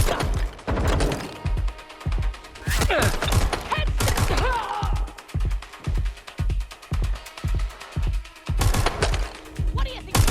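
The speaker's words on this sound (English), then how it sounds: "Shots fired!" Watch Dogs Legion video game gunfire: dense bursts of rapid shots that settle into a steady, evenly spaced volley. Shouting voices mix in near the start.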